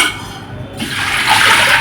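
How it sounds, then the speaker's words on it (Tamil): Water pours from a vessel into a pressure cooker holding lentils, starting abruptly as a loud splashing gush that continues to the end. "1 செம்பு தண்ணி ஊற்றி"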